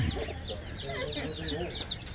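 Chickens cluck in a steady, busy stream of short calls, fairly close, with a low background rumble throughout.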